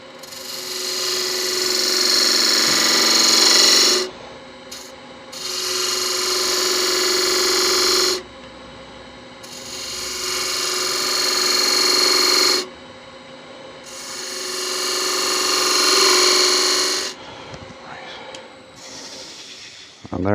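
A lathe tool cuts beads into a spinning wood box on a woodturning lathe, giving a steady scraping rasp in four long passes of a few seconds each, with short pauses between them.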